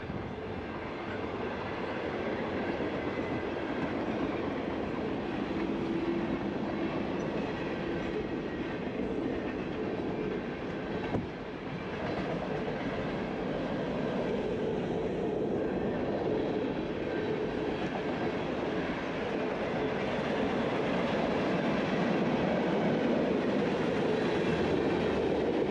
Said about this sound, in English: First, we gotta wait for this train